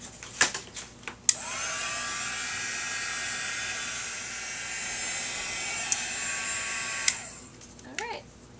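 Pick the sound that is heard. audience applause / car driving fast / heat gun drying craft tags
heat gun drying craft tags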